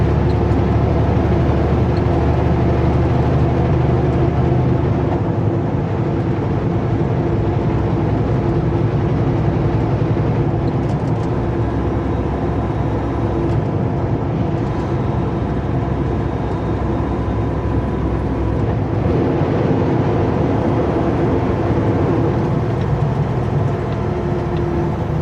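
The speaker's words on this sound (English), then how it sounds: "Rough road here. They've done some temporary paving. We're driving on what used to be the shoulder." A vehicle rolls over a rough, temporarily paved stretch of road where the shoulder used to be, giving a loud, steady rumble of engine and tyre noise with low droning throughout and no talk.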